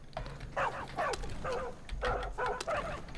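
Dog barks in the Far Cry 5 video game come in a quick series of sharp, close barks and yips at a steady rhythm over low background rumble.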